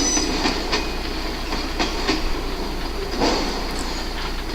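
Two model train covered hoppers roll along the track with a steady, close rumble and faint rhythmic clicks from the rail joints, with no talk.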